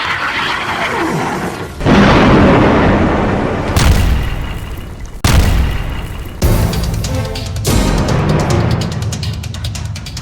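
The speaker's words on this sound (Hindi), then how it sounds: "गाजा पर बम बरसाकर इजराइल ने हमास की कई खुफिया सुरंगों को तोड़ डाला।" Bombs exploding in Gaza during an Israeli bombardment: a series of loud, heavy booms with deep rumbling tails, each blast starting abruptly.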